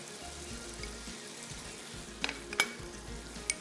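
Ginger paste and spices roast in a pan for white biryani, a soft sizzle broken by a few sharp clinks of a spoon against the pan.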